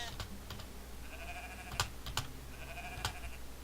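Sheep in a farm setting from the video game Moirai bleat in a few soft, wavering calls, spaced apart over a low steady background hum, with occasional faint clicks.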